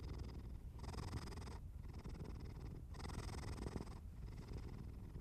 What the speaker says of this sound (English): The purring continues, and the story begins.